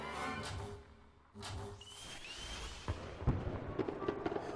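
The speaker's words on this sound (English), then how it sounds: "I always like the fireworks that go off every time I set up a new thing." Fireworks burst in the circus-management game Circus Electrique, with a rising whistle followed by crackling pops and bangs, moderately loud over a busy background.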